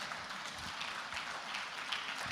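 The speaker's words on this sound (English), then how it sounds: "Please keep clapping for His Excellency the Vice President." Audience applause at the opening ceremony of the African Union MSME Forum 2025, honoring the Vice President: steady, dense clapping from a crowd, continuous and fairly distant, with no speech over it.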